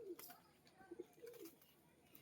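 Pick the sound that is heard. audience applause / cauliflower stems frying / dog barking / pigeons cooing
pigeons cooing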